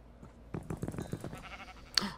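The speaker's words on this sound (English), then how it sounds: "Alright, let me shear that sheep." A sheep bleats in the modded Minecraft pack SevTech, a short game-animal call heard close and fairly loud near the end, after a stretch of soft speech-like game sounds.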